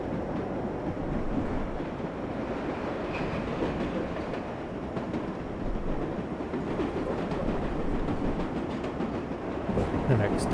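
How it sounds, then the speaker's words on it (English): A New York subway number 7 local train runs in the World of Subways 4 game, a steady rumbling roll with rhythmic clicks and rattles, loud and close throughout. "This is the number 7 local train to Times Square"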